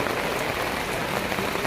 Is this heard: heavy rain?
yes